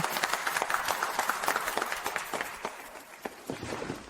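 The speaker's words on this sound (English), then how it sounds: "Let's give a warm round of applause to congratulate Mr. Anderson" An audience in a drama scene applauds at a celebration of a hugely successful new drug, giving a dense patter of clapping that holds steady for several seconds, with a few voices mixed in.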